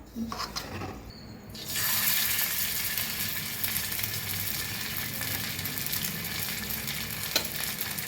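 Fish frying in a little oil in a pan at home, a dense, loud crackling sizzle that starts after a brief clatter and then runs steadily and close for several seconds, with no voices.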